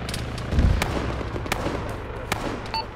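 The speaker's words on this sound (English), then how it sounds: "Auto cannon fire, rear." Distant autocannon bursts in the Arma military game, a few sharp separated reports with a heavier thump near the start over steady background noise; no talk.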